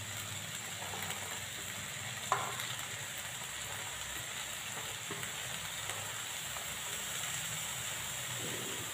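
Quiet, steady sizzle of potatoes, cauliflower florets and stalks and tomatoes frying in a pan for aloo gobhi sabzi, with a single sharp clink of the stirring spoon and soft scraping underneath.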